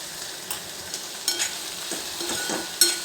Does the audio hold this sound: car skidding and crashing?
no